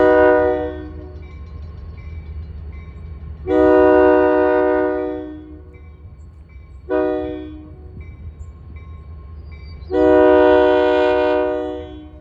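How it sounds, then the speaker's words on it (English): Albany & Eastern locomotive 2501 on the Mill City branch sounds its horn in four loud blasts, two long and two shorter, over a low idling diesel rumble. "it is the standard assigned locomotive on the Mill City branch"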